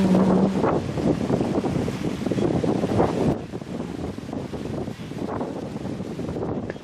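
Strong wind off Bear Island, Norway, buffets the microphone at sea aboard a sailing boat, a loud broad roar with gusty surges and a sudden drop in intensity partway through, no voices.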